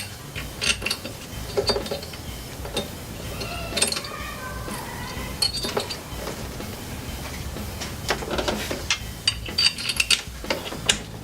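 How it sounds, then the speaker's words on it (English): A URD adapter plate is being bolted onto a 2016 Toyota Tacoma throttle body, with close metallic clinks, ratchet clicks and small tool rattles. These come in irregular bursts over a quiet background. "First thing I'm going to do is bolt the plate in place"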